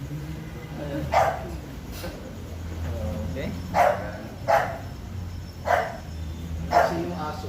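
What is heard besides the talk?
dog barking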